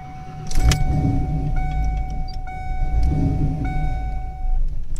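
A cammed Fox-body Mustang engine cranks and catches, then settles into a loud rough idle with a lumpy, loping rhythm and a steady whine above it.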